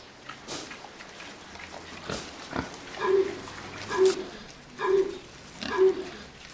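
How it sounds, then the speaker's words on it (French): A pig gives four short, rough coughing grunts at roughly one-second intervals, close by, after a few softer scattered noises. "On entend tousser un cochon."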